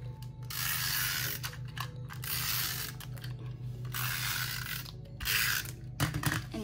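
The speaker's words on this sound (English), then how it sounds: "My Tombow double-sided tape, and I'm just gonna tape these together" Tombow double-sided tape being applied to planner pages, giving repeated ratcheting, tearing dispenser sounds in long bursts with short pauses, close and fairly loud against a steady low hum.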